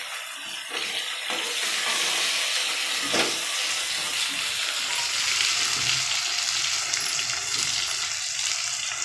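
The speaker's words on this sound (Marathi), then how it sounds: "त्याला पण असं परतून घेऊ कढीपत्त्याला पण त्याच्यात" Curry leaves sauté in a pan for masale bhat with a strong, continuous hissing sizzle that holds near and even for the whole stretch, with a faint clack of a utensil around the middle.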